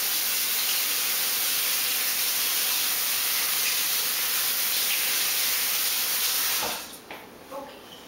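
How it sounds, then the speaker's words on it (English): Hands are washed under a running tap in a kitchen, a loud steady hiss of water that continues for several seconds before cutting off, followed by a few faint clinks and drips. "Wash my hands."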